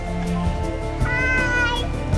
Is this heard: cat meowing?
yes